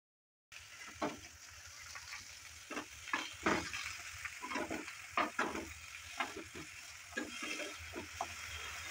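Brinjal pieces sizzle in hot oil in a pan, a quiet steady frying hiss with repeated scraping stirs, no talking.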